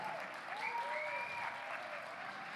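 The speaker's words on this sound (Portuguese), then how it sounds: "Essas palmas são para você, amor" Congregation applause at a church baptism and membership reception service, a steady wash of clapping throughout with a faint melodic tone drifting over it.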